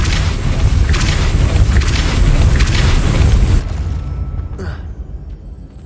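The Depulso spell fires in Hogwarts Legacy as a loud, forceful whooshing blast lasting a few seconds, followed by a softer, brief pop.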